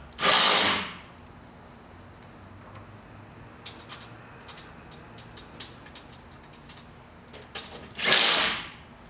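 A power drill tightening a bolt on a truck deck, two short loud whirring bursts at the start and end, separated by quiet handling clicks and taps in between.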